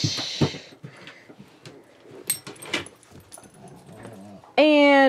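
Dogs playing and barking indoors, with scattered sharp barks and whimpers among scuffling and knocks, ending in a loud sustained yelp, while a person talks over part of it.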